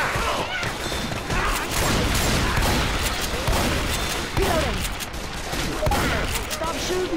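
Left 4 Dead 2 gunfire crackles in rapid bursts and scattered shots over chaotic game noise, loud and continuous, with people talking over it.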